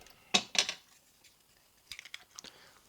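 Scissors or cutters snip the plus wire of battery-powered Christmas lights, two sharp close clicks followed by a few softer handling taps.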